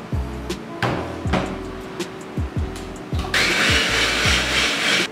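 An electric food chopper whirs steadily while mixing apem batter of sugar and leavening. Its motor hum is broken by repeated rhythmic thumps, and the sound turns into a louder, brighter whir partway through. The chopper sounds close, and nobody speaks.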